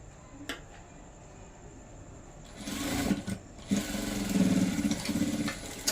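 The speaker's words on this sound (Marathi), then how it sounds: "व्यवस्थित पद्धतीने शिलाई देऊन घ्यायची आहे" A sewing machine stitches trim around the round neckline of a blouse; after a quiet start with a single click, the motor whirs up at about two and a half seconds and keeps running steadily and fairly close.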